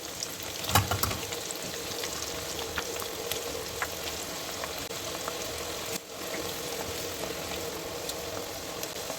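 Dal frying in hot ghee for homemade nimko, a steady dense sizzle and bubbling that runs continuously throughout with no talk.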